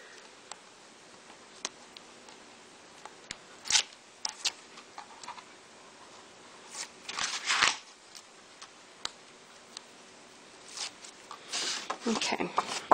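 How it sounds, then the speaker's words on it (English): Adhesive backing peels off paper pieces for a criss-cross greeting card, giving faint crisp rips and crinkles in short bursts across a quiet background, with sparse small ticks between. "go ahead and peel this off and get these two halves stuck together."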